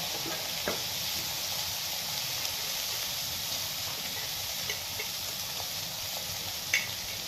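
Green peas sizzling in a pan of fried spice masala while being stirred, a steady close frying hiss with a few light clinks of utensil on the pan.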